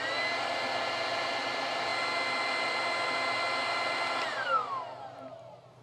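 A Wolfbox MF100 battery-powered electric duster blower whirs at a steady high-pitched roar for about four seconds, then winds down and fades as it is switched off.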